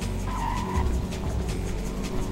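A car in a Grand Theft Auto game drives along and gives a short, sharp tire squeal as it skids. A continuous engine rumble runs beneath.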